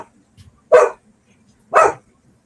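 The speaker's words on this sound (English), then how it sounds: "then he had to bark" A dog gives two loud, sharp barks about a second apart, close by, with quiet between them and no talking.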